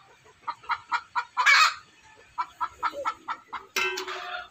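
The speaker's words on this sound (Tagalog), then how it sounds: "Ito yung inain ni super nuts. At saka ni ate, at saka ni Yang Yang. Nangingitlog na ito." Laying hen clucking close by in a run of short, rhythmic clucks, followed by a louder drawn-out squawk and another quick series of clucks.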